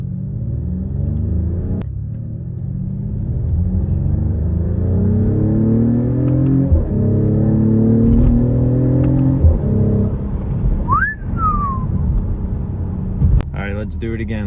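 A Mercedes car in manual mode accelerates through several gears, its engine note climbing in repeated rising sweeps with short drops at each shift, loud and close from inside the cabin, with a voice speaking over it.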